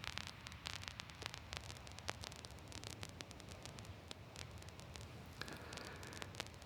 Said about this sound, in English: You want a little hiss in your sound?